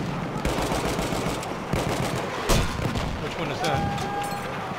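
A Lewis Suppressive light machine gun fires in Battlefield 1 during a Conquest match in Argonne Forest, in dense overlapping bursts with a heavier boom midway, loud and close.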